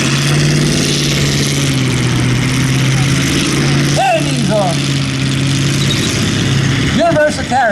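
Engine of a Universal Carrier (T16) with a Ford flathead runs loud and close, holding a steady low idle rumble with rising rev sweeps in the middle and again near the end, outdoors at a military encampment.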